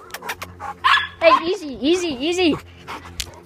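A small dog pants rapidly and lets out a few sharp barks and yips close by, while someone talks to it over the sounds.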